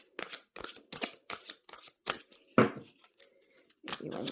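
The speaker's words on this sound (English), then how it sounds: "a couple more shuffles here" A run of crisp tarot card shuffles, short papery riffles repeating about a dozen times in an uneven rhythm, close and fairly quiet.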